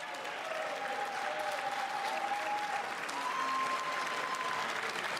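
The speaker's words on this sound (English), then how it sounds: "Standing up and cheering for yourself" An audience applauds steadily for several seconds, a dense wash of clapping with some faint cheering and voices mixed in, without a break.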